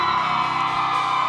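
Wedding reception guests scream, whoop and cheer together in a loud, sustained crowd roar that holds steady throughout.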